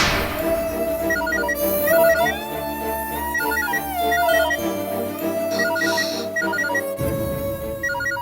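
A melodic electronic ringtone plays continuously and loudly, a looping tune of bright synthetic tones.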